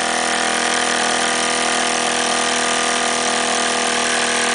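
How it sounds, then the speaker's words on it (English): A 1939 Jensen #5 oscillating steam engine runs continuously and smoothly, a dense, steady mechanical whir with a fast even chuffing texture, close and loud with no talk. "this little oscillator runs absolutely silky smooth"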